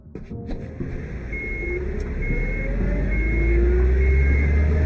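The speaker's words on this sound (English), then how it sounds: "Crap, they started the engine." A video game truck engine starts, rumbling low and building steadily, with a faint whine rising in pitch over a continuous hum as it revs up.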